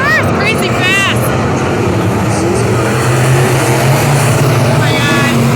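A race car roars around the dirt track at 141 Speedway, a loud steady engine drone filling the whole clip. A voice is heard briefly near the start.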